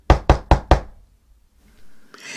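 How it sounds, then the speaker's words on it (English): Four loud, evenly spaced knocks on a door at the bottom of a stairway, followed by a faint rustle, with no voices. "followed by relentless knocks at the door at the bottom of the stairs"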